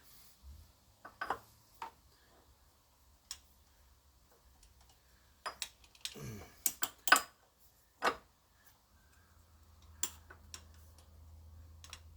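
A torque wrench snaps out a few sharp, separate clicks while spindle nuts are tightened to 158, the clicks loud and close and set apart by quiet gaps, with a low rumble toward the end.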